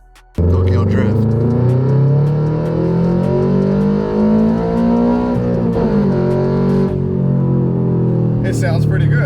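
A 2022 Subaru BRZ fitted with a Tomei UEL header and Tomei Expreme Ti 80R exhaust drones loud and close, its pitch rising and sagging as the engine is revved, with a brief break midway before pulling again.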